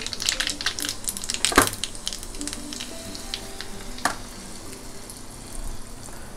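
Urad dal, mustard seeds, cumin and asafoetida sizzle in hot oil, a close, steady crackling with sharp pops from the seeds and a couple of louder spits.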